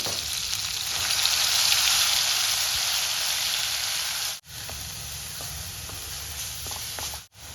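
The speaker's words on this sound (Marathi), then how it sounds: "हळद आणि आपला काळा मसाला वाटलेला आपण मिक्स करून घेणार आहोत आणि व्यवस्थित तेलामध्ये भाजून घ्यायचं आहे" Turmeric and ground black masala fry in hot oil for a black peas usal, a steady close sizzle that holds throughout with two brief dropouts near the end.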